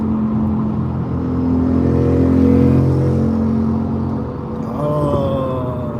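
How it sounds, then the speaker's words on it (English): A motorcycle passes on the road, heard from inside a moving car: a rising, droning engine note swells and fades over the car's own road hum, followed by a brief higher whine. "Can anybody tell what kind of bike that was just by the sound?"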